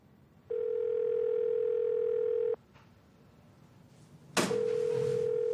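A telephone call rings out with a steady tone lasting about two seconds, then a pause and a sharp click before the tone starts again, close and clear against a quiet room.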